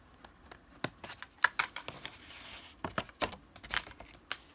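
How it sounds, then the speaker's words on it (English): Sharp little snips and clicks come in an uneven series, close and fairly quiet, like scissors cutting through paper. "So I'm going to take my scissors"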